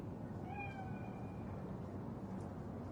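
A cat in Cyberpunk 2077 gives a short, faint meow early on, with a fainter trailing call after it, over a steady low ambient game hum.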